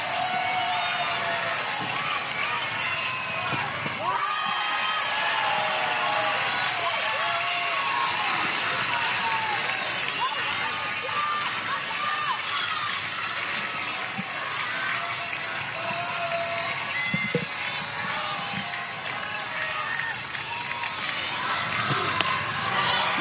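Crowd at a professional softball game cheers and claps steadily throughout, a dense roar of voices and applause with a few sharper shouts, while an announcer talks over it.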